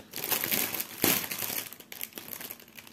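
Plastic bag of a cross-stitch kit being opened, giving close, continuous crinkling and crackling with a sharper crunch about a third of the way in, quiet and with no talk.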